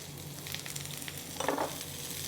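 Onions and garlic sizzle in oil in a clay pot for a Vietnamese shrimp and tofu dish: a steady close frying crackle with a brief stirring swell midway.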